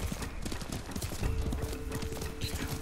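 Horse hooves clip-clopping at a steady trotting rhythm in Ghost of Tsushima, fairly quiet, with a soft whinny-like tone and game ambience underneath.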